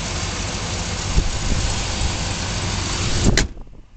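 A clean Chevrolet K1500 crew cab short-bed LS 4WD pickup engine runs smoothly with the hood open, a steady near broadband rumble that holds for about three seconds before cutting off sharply.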